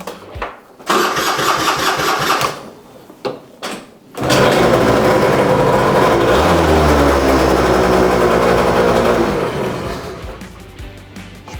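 Two-stroke engine with a few short sputtering attempts, then catching and running loud and buzzing, revving steadily before settling toward the end.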